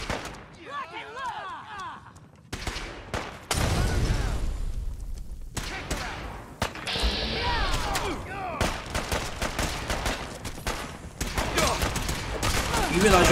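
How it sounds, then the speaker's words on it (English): Gunfire in the Fallout video game crackles in bursts of rapid shots and booming blasts, loud and close, with abrupt cuts between volleys and some background noise between them. "You realize you're shooting through the floor."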